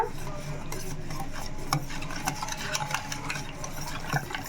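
A mixture for junnu, a sweet made without milk, stirred and mixed in a bowl: a steady, close scraping and swishing with small rhythmic knocks of the spoon, and no voices.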